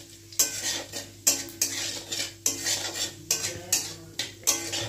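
Bay leaf, cardamom and cumin tempering in hot oil in a kadai while a utensil stirs them, giving repeated rhythmic metal scrapes roughly every second over a soft steady sizzle, close and fairly loud.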